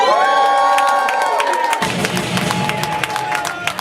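A crowd cheers and whoops loudly, a whistle-like tone fading early, then scattered shouts and claps continue over a rumbling roar.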